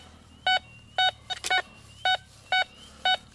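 A Nokta Impact metal detector sounds over a copper penny at 2 inches, giving six short, identical high-pitched beeps at an even rhythm, clear and close, with a faint background hum and no speech.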